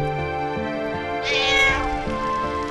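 A cat meows in the Final Fantasy IX PS4 game, a single clear, rising-then-falling meow in the middle of the clip over continuous tonal game music.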